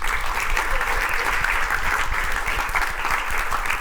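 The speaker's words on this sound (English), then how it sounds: "can we actually clap for them" An inspirational talk's audience claps for the earlier speakers, a loud, dense and even burst of many hands that carries on without a break.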